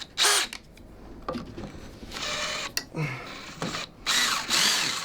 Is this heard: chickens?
no